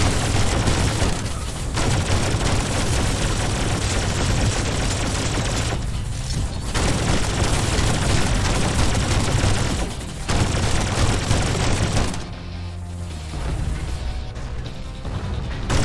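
In Mothergunship, lava mine launchers and a mech fire a loud, sustained barrage of gunfire and explosions, nearly continuous with short lulls and a quieter tail near the end.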